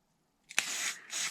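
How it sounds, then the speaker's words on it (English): Hairspray gives a short hissing burst into a rubber boot on a Losi DBXLE 2.0 RC truck front hub, then a brief pause and a second quick hiss, close and clean with no talk. "Just do a quick little spray in there."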